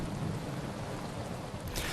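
A steady wash of falling monsoon rain in Ahmedabad, dense and even, continues for a couple of seconds with no voices.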